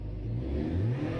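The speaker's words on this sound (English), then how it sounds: "Yes, I can hear the engine." A car engine revs steadily in a racing video game, a loud continuous mid-pitched drone held throughout the short stretch, with no voices.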